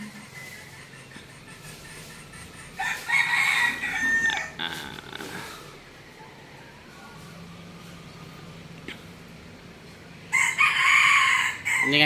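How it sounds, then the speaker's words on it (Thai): A rooster crowing twice, long loud calls a few seconds apart over quiet outdoor background, fairly close. "ขันเก่งมากครับ"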